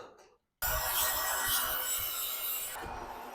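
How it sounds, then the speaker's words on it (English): A drill bit deburrs freshly drilled holes in steel for a homemade Honda Shadow chopper frame, giving a steady, close gritty rasp that runs about two seconds without cutting oil, then eases off slightly. "Just deburr these holes."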